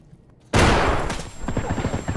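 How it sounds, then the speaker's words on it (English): Gunfire erupts suddenly in the Escape From Tarkov video game, a loud close burst of shots followed by a rapid rattling volley that continues to the end, with no talking. "Not sure where I'm getting shot at from"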